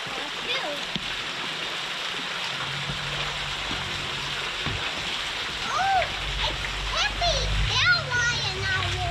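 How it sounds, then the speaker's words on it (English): A small creek flows past a covered bridge in Alabama, its continuous watery rush and splashing close by, with a voice and someone speaking over it. "It's a nice little creek through here, huh?"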